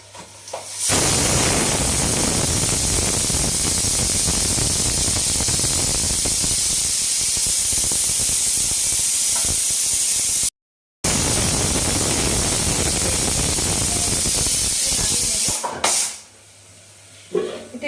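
A pressure cooker full of kabuli chana vents steam in a loud, sustained hiss that runs for many seconds, drops out for a moment, then resumes before cutting off and leaving quiet.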